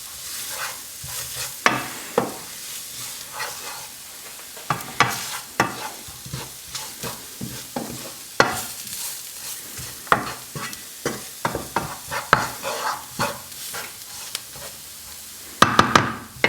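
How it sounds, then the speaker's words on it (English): Turmeric, cumin and curry powder are stirred in a hot pan, with a soft sizzle beneath repeated scraping and knocking strokes at an uneven pace, and no voices. "Add the spices, turmeric, cumin and curry powder. Then mix for 1 minute."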